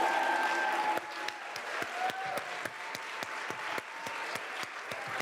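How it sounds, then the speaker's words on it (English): Applause from an audience at the close of a climate-action presentation, steady clapping that thins out over several seconds with a few sharper individual claps standing out. "Round of applause."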